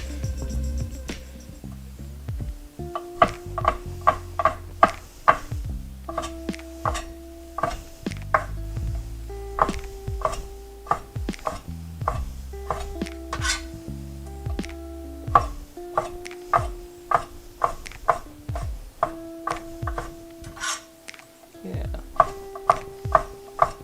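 A knife chops meat into mince on a board with steady, rhythmic thuds, sometimes doubled, beneath a continuous musical backdrop in a home kitchen.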